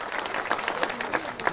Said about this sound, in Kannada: ಅವ್ರಿಗೆ ಇನ್ನೊಮ್ಮೆ ಜೋರಾಗಿ ಚಪ್ಪಾಳೆ ಇರಲಿ.